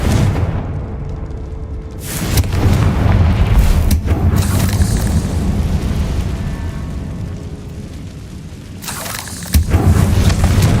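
Bombarda spell explosions go off in the Hogwarts Legacy video game, heavy booming blasts that swell and rumble across several seconds with short gaps between bursts, loud and near, with no talking.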